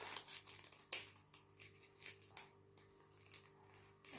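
Scissors snip through a small paper reference label from a diamond painting kit, giving several quiet, separate cuts spread across a few seconds in a calm room.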